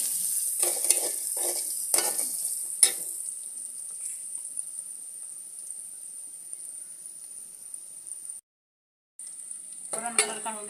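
Methi bhaji frying with salt in a pan, a quiet high hiss of sizzling with a few scraping stirs near the start and again at the end, close and soft throughout.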